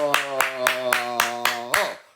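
About six sharp hand claps land in a steady, evenly spaced rhythm over a sustained, droning voiced tone. They are close and fairly loud and fade out at the end.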